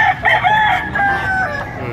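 A gamefowl rooster crows loudly and close at a chicken market, one long drawn-out crow with wavering tone lasting nearly two seconds, alone without talk.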